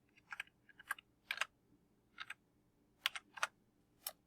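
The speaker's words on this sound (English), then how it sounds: "So I'm going to go ahead and type that in now." A PIN typed on a computer keyboard produces about ten sharp, close key clicks in irregular small clusters over quiet background.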